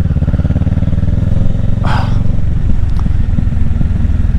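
Kawasaki Ninja 650 motorcycle revving in a tunnel, a loud echoing engine roar with a sharp throttle blip near the middle and rumbling underneath throughout.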